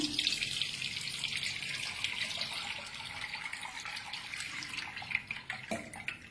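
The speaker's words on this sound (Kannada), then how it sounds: "ಈಗ ಅದಕ್ಕೆ ತಣ್ಣೀರು ಹಾಕೋಣ." Cold water pours in a steady, continuous rush into a cooking pot on a home kitchen counter, a bright splashing stream that runs for several seconds without any talking.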